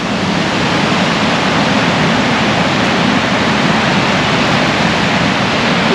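Targa Falls, a horseshoe-shaped waterfall in a Poconos preserve, roars as a dense, steady broadband rush that stays loud and close throughout with no pauses or voices.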